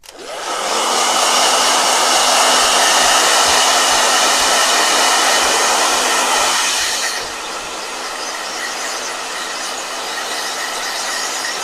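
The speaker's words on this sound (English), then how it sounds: "first I got to blow dry this. Okay. Blow dryer." A handheld blow dryer drying a watercolor painting runs loud and steady for about seven seconds, then drops to a quieter, lower setting that continues to the end, with no talking.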